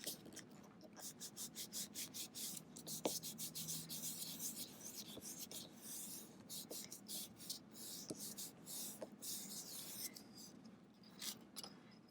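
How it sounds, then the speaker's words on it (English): Marker-inked printing plate pressed onto paper, with the back of the sheet rubbed by hand to lift a print; scratchy rasping strokes repeat in a steady rhythm, close and fairly quiet, with no talking. "Place it down, rub the back"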